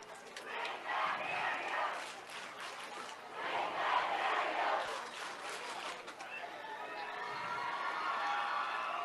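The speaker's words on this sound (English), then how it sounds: "Pretty good crowd tonight" Crowd at a high school football game, Brush at Fort Morgan, swelling in waves of distant cheering and shouting across an open field, rising and falling several times.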